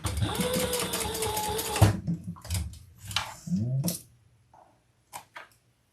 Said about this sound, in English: I'm going to just sew across the bottom so it stays together